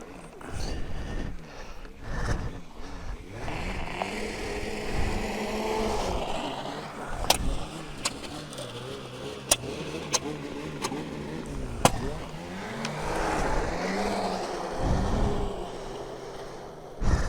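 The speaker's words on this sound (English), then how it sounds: "These guys are going crazy through this parking lot." Cars race hard through a parking lot, engines revving and rising and falling as they pass, with several sharp pops and bangs cracking over the roar.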